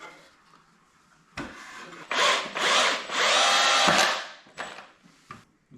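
Power drill driving screws into the bottom of a wooden saw-horse A-frame, close whirring bursts that rise and hold for a couple of seconds, with handling noises before and after.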